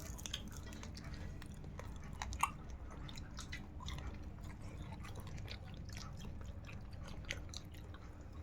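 Someone chews crunchy fried pulasa fish close up, with steady wet chewing and munching under a faint background hiss, one brief sharp click partway through.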